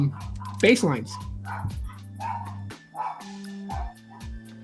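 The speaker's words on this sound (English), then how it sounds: "Woof, woof, woof, woof, woof, my freaking chihuahuas." Small chihuahuas bark and yip in quick bursts while a person keeps talking over them nearby.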